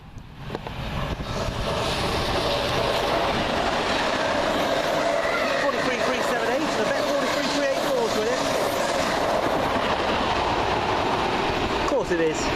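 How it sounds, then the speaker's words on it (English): A passenger train on the Plymouth to Glasgow Central service rumbles past at close range, a steady loud roar with rhythmic wheel clatter and faint squeal. "Next up, 1 Sierra 51 from Plymouth to Glasgow Central."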